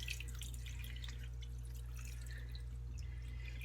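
Wool dyed in primary colors, some with bits of viscose, is washed in water, giving soft close drips and light splashes over a steady low electrical hum, with no talking.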